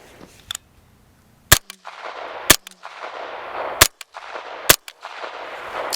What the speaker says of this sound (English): Whenever I fire and you hear it echoing, that's the crack.